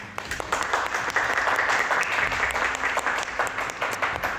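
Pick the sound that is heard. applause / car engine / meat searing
applause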